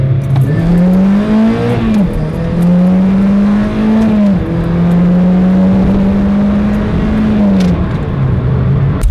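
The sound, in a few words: car engine revving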